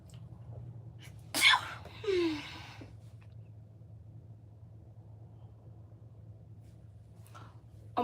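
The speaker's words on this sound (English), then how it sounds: "here comes the sneeze" A single sharp human sneeze with a drawn breath and trailing exhale, close and fairly loud, over a low steady room rumble, followed by quiet.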